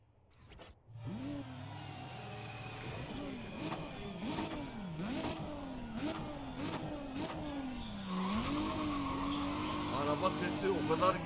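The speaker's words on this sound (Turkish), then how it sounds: "Araba sesi o kadar güzel ki" A racing car engine in Need For Speed ProStreet on PC revs loud and close, climbing and dropping in repeated surges through gear changes, then settles into a higher steady drone with faint tire squeal.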